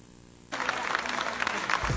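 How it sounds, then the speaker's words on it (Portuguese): Italian fans applaud the Chapecoense football squad before a training session: a burst of clapping starts suddenly and continues as a dense, moderately loud patter. "Antes do treino, o elenco da Chape foi aplaudido por torcedores italianos"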